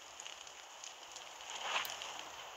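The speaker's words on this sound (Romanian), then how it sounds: "Ia foc." Fire burning in the video game Little Inferno, a soft continuous crackling hiss at low level with a slight swell near the end, heard alone without voices.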